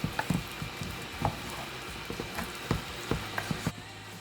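Tinned tomatoes for jollof rice sizzling in a cooking pot, with a soft frying hiss and scattered sharp pops and spatters, close by and moderately quiet, no speech.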